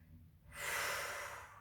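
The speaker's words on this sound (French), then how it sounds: "soufflez par la bouche" During a relaxation breathing exercise, one slow, soft breath is pushed out through the mouth. The close, breathy exhale starts after a short quiet pause and fades gently.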